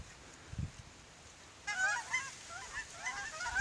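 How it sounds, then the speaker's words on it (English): Several geese honk at a distance from sandbars on a frozen winter day, a loose overlapping series of calls over quiet outdoor background noise, with a soft thump early on. "geese love to roost up on these sandbars."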